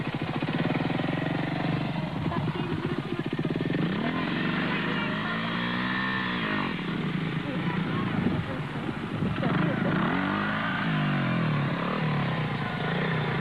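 A motorbike engine runs steadily through a beginner's riding lesson, holding a continuous near drone while an instructor and a learner talk over it.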